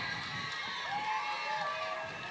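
A high school football crowd roars in a steady, distant wash of cheering and shouting voices at a Piggott vs. Melbourne night game, fairly faint and continuous throughout.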